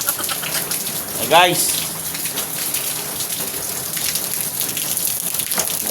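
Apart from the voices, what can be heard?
rain falling in the morning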